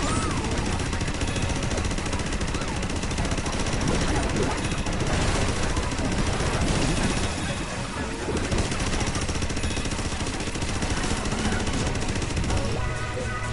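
Sustained rapid gunfire from the VR game Astro Bot, loud and continuous automatic bursts that barely let up throughout.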